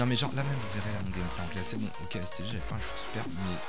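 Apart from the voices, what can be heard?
No distinct noise like a dog, phone or traffic.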